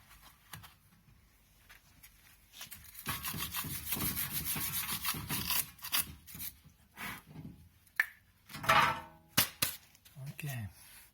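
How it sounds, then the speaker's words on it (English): Brake parts on a Honda Elysion front brake job get a scrub with a brush, a rough rubbing swish at mid-distance that runs for a few seconds, then comes in short bursts. "I'll give a good scrub."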